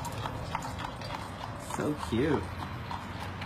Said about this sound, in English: there's another horse and buggy